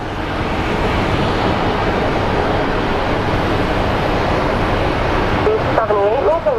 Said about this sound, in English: Here we have a Delta Airlines A321.